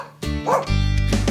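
A dog at a conservation area gives a couple of close, loud barks and yips that slide into a whining, drawn-out howl-like bark, heard alone without talk.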